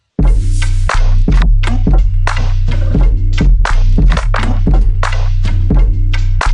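A loud, steady hip-hop beat built on deep, booming 808 bass hits and a sharp, repeating clap, looping in a tight rhythm with no talking over it.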